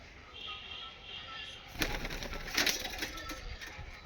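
A female fancy pigeon coos softly in a loft, with faint rustling and a few louder flutters and knocks partway through.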